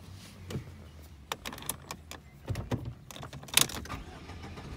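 A 2003-2011 Saab 9-3 with a manual gearbox is started using an aftermarket key, with scattered clicks, key and cabin rattles and short mechanical clunks near the microphone, and the engine never clearly settles into a running note.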